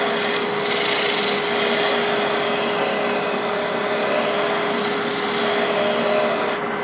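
A Hope Woodturning Pro Sander with 180 grit paper works a spinning wooden bowl, giving a loud, continuous rasping rub that holds steady throughout.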